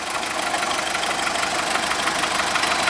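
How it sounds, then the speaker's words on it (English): A Volkswagen Golf engine idles with a steady, continuous mechanical drone, a noisy water pump adding a faint whirring rattle within the constant running noise. "hopefully you can hear the noise of the water pump"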